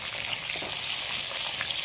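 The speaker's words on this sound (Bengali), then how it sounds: "এই মাছ ভাজা তেলের মধ্যেই আমি পটলগুলো আগে ভেজে নেব" Pointed gourd frying in oil left over from frying shrimp, a dense, steady close sizzle and crackle, loud and unbroken, with no voices.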